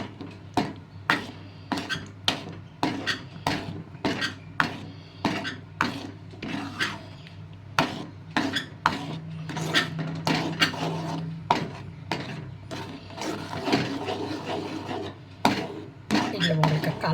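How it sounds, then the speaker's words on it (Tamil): A thick mango sweet mixture with added masala is stirred in a pan, giving repeated scraping, rasping strokes of a spoon against the vessel in a steady rhythm, close and moderately loud. "மசாலாவை ஆட் பண்ணிவிட்டு இதை நல்லா கலந்து விட்டுக்கலாம்."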